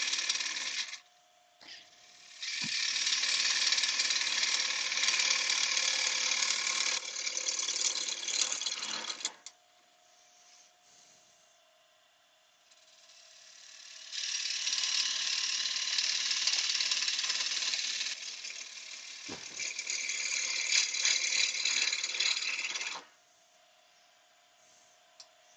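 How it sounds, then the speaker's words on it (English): A woodturning lathe spins while a 3/8 bowl gouge hollows a wooden piece, giving long stretches of loud, rough cutting noise over a steady motor hum, broken by quieter pauses where only the lathe runs. "let's hollow this out. So I'm using 3/8 bolt gouge now."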